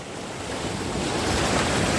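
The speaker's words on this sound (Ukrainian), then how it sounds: "тут хвилі ж б'ють" Sea waves break and wash on a beach in Odesa, a loud continuous roar of surf mixed with wind noise, with no voices heard.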